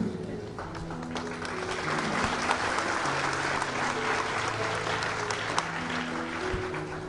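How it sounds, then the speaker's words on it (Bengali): An audience at a motivational talk claps steadily, a dense sustained applause of many hands that stays fairly even throughout, with a faint hum underneath. "জোরে তালি দাও।"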